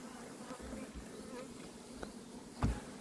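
Bees buzz steadily inside an opened hive during a frame-by-frame inspection, a close continuous drone with a few louder passes near the microphone.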